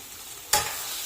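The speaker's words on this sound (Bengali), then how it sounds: "তো এখন আমি ঘি দিয়ে দেবো। ভালো করে নাড়িয়ে" Taro greens cooking in ghee in a pan, a quiet low hiss that bursts into a sudden sharp sizzle as a stir disturbs the pan, then settles into steady frying.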